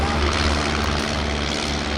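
A vintage SPAD fighter biplane with an inline Hispano-Suiza liquid-cooled engine flies at the Jesolo air show, its propeller engine a loud, constant drone throughout.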